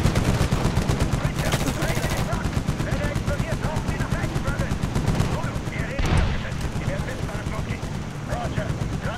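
Machine gun nest firing in Medal of Honor, a dense, continuous rattle of automatic gunfire with scattered shots layered over a steady battle din, loud and sustained throughout.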